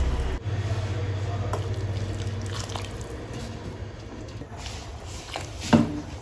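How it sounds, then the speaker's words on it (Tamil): Hot water poured into rice in a pot for chicken biryani, a soft, steady trickling fill that is fairly faint and ends with a small splash. "சுடுதண்ணி தான் ஊற்றுறேன், நீங்களும் சுடுதண்ணியாக ஊற்றிக்கோங்க"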